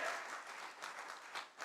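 Congregation clapping in a church during a sermon, quiet, dense applause that swells slightly in waves over a short stretch, heard at a distance with no voices.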